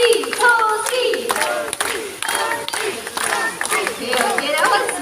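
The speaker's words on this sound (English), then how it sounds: "So all you have to do is clap your hands and you go Toasty, Toasty." Audience at a bird show with a blue and yellow macaw claps in rhythm and chants together, bursts of group clapping with shouted voices, fairly close.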